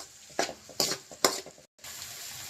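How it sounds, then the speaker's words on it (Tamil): Oil sizzles steadily in a pan with ginger, garlic and chillies frying while a utensil stirs and scrapes through it in three distinct bursts, then the sizzling carries on alone. "இப்போ அதெல்லாம் எண்ணெயில் நல்லா ஃப்ரை பண்ணி விட்டுக்கலாம்."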